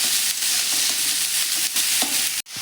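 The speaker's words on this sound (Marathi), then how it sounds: "हाय फ्लेमवरती आपल्याला हे परतून घ्यायचं आहे" Ginger garlic paste and chillies sauté over a high flame for egg fried rice, giving a loud, steady sizzle broken by occasional stirring scrapes, close by and with no talk.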